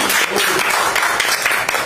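An audience at an outdoor Democratic Party political rally in Busan breaks into applause, a loud dense patter of clapping hands that holds steady before tapering off at the end.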